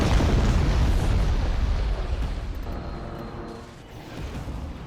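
Heavy explosions from a bomber bombardment in a Star Wars strategy game, a loud rumbling blast that roars at full strength, then slowly fades and swells again as more booms roll in, with no talking.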